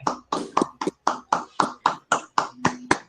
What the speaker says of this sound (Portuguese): uma salva de palmas agora para ele